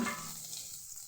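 Chopped onion sizzles in hot tempering oil for a bendekai chutney, a bright close crackle that starts loud and fades slightly over a second, with no voices.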